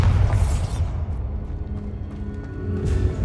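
A Bombarda blasting spell goes off in Hogwarts Legacy as one loud low explosive boom, followed by a sustained rumbling tail that lasts the whole moment with no talking.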